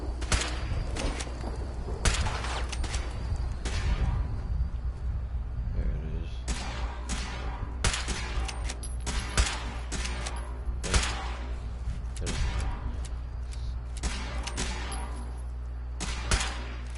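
Gunfire in the video game Fallout 4: a string of irregular sharp shots and thuds, some close and loud, others softer, spread across a steady background.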